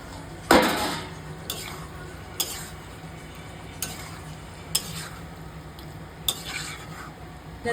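Pre-fried potatoes drop into a pan of frying vegetarian paneer curry with a sharp clatter, followed by a gentle sizzle and intermittent spatula taps and scrapes against the pan, close by with no speech.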